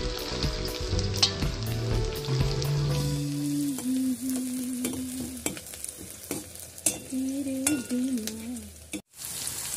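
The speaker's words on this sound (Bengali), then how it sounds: "পেঁয়াজটা হালকা ভাজা হয়ে গেছে" Chopped onion frying and being stirred in hot oil, a steady close sizzle with scraping stirs and clinks of the utensil against the pan throughout, with no talking.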